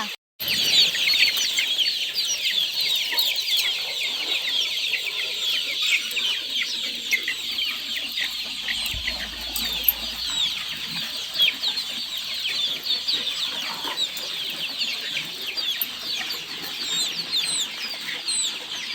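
Native chickens on a poultry farm cluck and chatter continuously nearby, with occasional wing flaps and a faint crow in the background, no one speaking.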